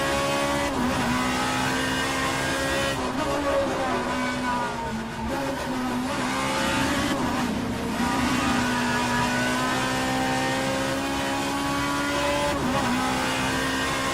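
A V6 race car engine in the rFactor 2 racing game drones loud and steady throughout, with the pitch rising and falling through gear changes and a brief dip near the middle.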